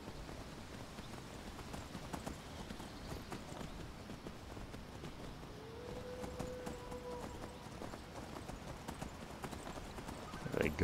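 Horse hooves clip-clopping in the video game Skyrim, a soft, steady hoofbeat rhythm under faint background ambience, with a brief tonal whinny-like sound midway.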